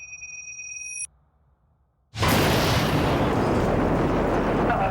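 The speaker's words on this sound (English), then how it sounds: "I presume you heard that loud explosion right next to you?" A bomb goes off outside a police complex: after a brief hush a sudden, very loud blast erupts and rolls on as a sustained, roaring rumble.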